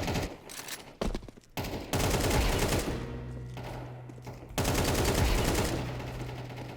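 Rapid bursts of rifle fire from the video game Counter-Strike 2 crackle in several sharp volleys separated by short pauses, loud and close with no talk.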